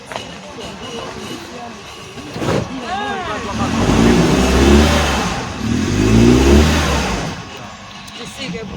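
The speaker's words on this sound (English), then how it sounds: "the bus got stuck on a washed-out section of road" A 12-passenger bus stuck on a washed-out road revs its engine hard in two long, rising surges, loud and close, with people talking and calling out around it.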